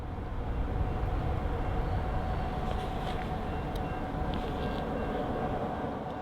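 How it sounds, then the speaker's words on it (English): An Amtrak train rolls past Conrail-style trackside signals on a Michigan line, a steady, loud broadband rumble that holds for the full stretch, with faint higher squeals and clanks above it and no voices. "This was the last train we documented going by the Conrail style signals before they were replaced by Amtrak."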